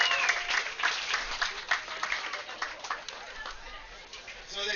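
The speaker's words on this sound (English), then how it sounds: "let's make some noise again for Head Judge Gary." A large crowd applauds and cheers for the head judge at a longboard surf contest finals day at Cape Kiwanda, steady dense clapping throughout with scattered voices mixed in.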